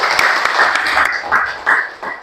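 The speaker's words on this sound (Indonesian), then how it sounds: "Tepuk tangan untuk kita semua" Classroom applause in an Indonesian biology teaching session, a short burst of clapping from a group of students, fairly close and uneven, swelling in a couple of waves before fading.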